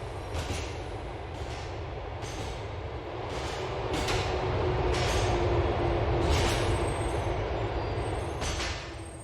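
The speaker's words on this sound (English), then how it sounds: "The train is approaching Fort" A commuter train in Liberty City, a video game, rolling into a station, with a dense continuous rumble and a regular series of rhythmic clunks from the wheels, loud and close throughout.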